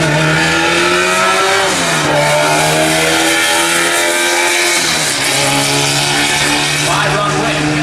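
A drag racing car makes a solo bye run in the 1150 index class at N.C. Dragway, its loud engine howling and climbing in pitch through distinct gear shifts, close and continuous throughout.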